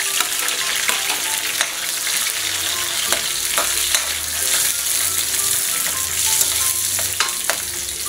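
Onion and tomato frying together in a hot pan, a steady broadband sizzle with scattered clicks and spatters, close and fairly loud throughout with no talking.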